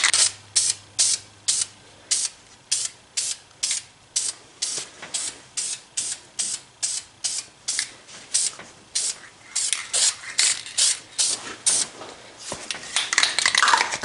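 Gray spray paint hissed onto a car wheel in a long series of short, sharp bursts, close and crisp, roughly one every half second, turning into denser, longer sprays toward the end.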